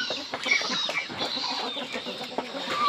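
Bangkok chickens on a backyard farm cluck steadily alongside geese, a busy overlapping chatter of several birds close by, with occasional sharper calls rising above the flock.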